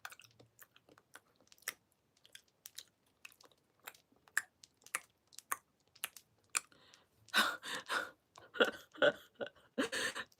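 Someone chews food with an open mouth close by, a string of soft wet clicks and smacks that grows louder and denser toward the end.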